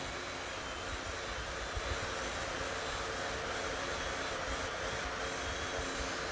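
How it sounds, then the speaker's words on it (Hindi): An electric motor runs fast on a lithium-ion battery in a home solar power setup, giving a steady, loud, even whir and hiss throughout with no talking. "ये मोटर भी काफ़ी तेज़ी से रन कर रहा है"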